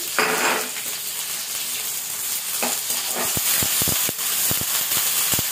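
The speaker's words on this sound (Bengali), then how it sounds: "পেঁয়াজগুলো লাল লাল করে ভেজে নেব মুরগির মাংসের জন্য।" Chopped onions fry in oil in a wok for chicken curry, a continuous close sizzle and hiss broken by sharp scraping and clacking strokes of a stirring spatula, with no talking.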